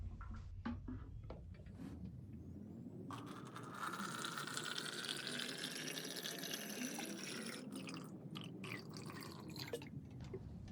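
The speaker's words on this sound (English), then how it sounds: "to open them, we just twist the cap off and we can pour the water directly" Water pours steadily into a 100 fl oz rubber hot water bottle, a continuous rushing fill with the pitch rising as it fills, alone and close up.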